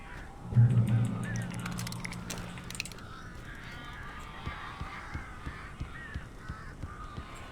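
Harsh caws from the crow-like birds of Alan Wake, a loud low honking burst near the start, then scattered quieter calls and tapping over a murky background with brief voices.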